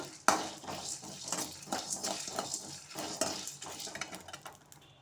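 A spoon scrapes and clinks in a pan of roasting fennel, cinnamon, cloves and cardamom, a faint, close series of metallic stirring strokes.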